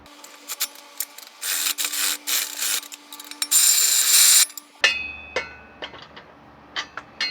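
A wrench tightens an M10 by 1.25 exhaust bolt on a 2015 Toyota Sienna AWD 3.5 during an exhaust leak repair, with close metallic scraping and rubbing bursts, a longer grinding rasp, then sparse sharp clicks and knocks.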